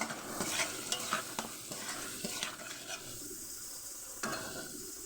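A soybean cutlet mixture, seasoned with chaat masala, is fried and stirred in a pan, giving a soft, steady sizzle broken by scrapes and light clicks from the utensil, with no talking.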